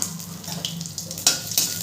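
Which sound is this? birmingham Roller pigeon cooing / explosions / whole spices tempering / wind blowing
whole spices tempering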